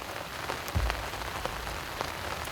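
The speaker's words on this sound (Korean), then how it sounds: "오히려 빗방울은 굵어지고 비의 양이" Heavy spring rain pours steadily around a flooded-tree pond fishing spot, a dense continuous patter with scattered louder drops striking nearby surfaces, no voices over it.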